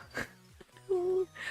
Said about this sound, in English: I apologize for the whining dogs.